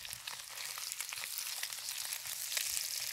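Beef slices fry in a pan for a chop suey stir fry, with a dense, crackling hiss and scattered sharp pops that run steadily throughout, close up and with no one talking.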